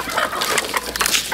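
A chicken clucks in a series of quick, scratchy calls, close and fairly loud against a busy farmyard background, with no talk over it.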